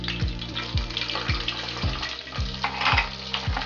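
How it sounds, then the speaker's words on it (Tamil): Spices such as bay leaf, cloves, cinnamon and cashews sizzle in hot oil in a pan for pulao, a steady close frying crackle with rhythmic stirring scrapes, no talking. "எல்லாம் வறுபட்டுடுச்சு."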